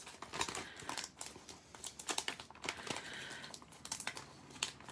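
An Infusible Ink transfer sheet being peeled away, a continuous close crinkling and crackling paper sound with sharp tearing ticks scattered throughout, fairly quiet and steady.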